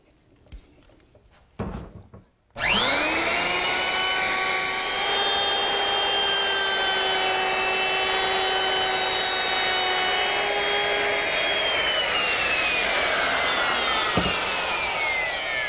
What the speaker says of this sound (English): I'm going to round over the inside edge with my router, which I've equipped with a 1/2 inch radius roundover bit.